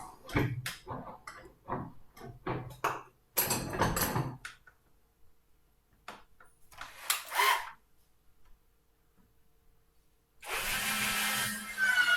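A power drill bores window holes into a wooden toy train in a home workshop, with short whirring bursts between handling knocks and clicks and a longer, louder drilling run at the end.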